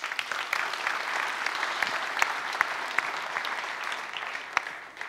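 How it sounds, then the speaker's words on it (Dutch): A hall audience applauds committee members at a science event: steady, moderately distant clapping from a crowd, sustained throughout and gradually tapering off near the end. "Even een applaus."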